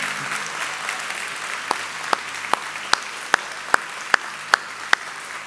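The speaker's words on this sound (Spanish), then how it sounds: "¿qué tal si tú mismo te das un fuerte aplauso porque viniste en la mejor actitud?" A church audience gives itself a round of applause, a sustained dense crowd clapping with a growing series of sharp, evenly spaced accented claps cutting through.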